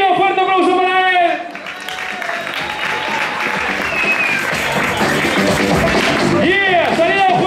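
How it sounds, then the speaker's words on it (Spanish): An audience at a rock'n'roll dance event in Zaragoza breaks into loud, sustained applause after a contestant is announced, dense clapping filling the room while an announcer's amplified voice talks over the start and end. "Fuerte aplauso para él."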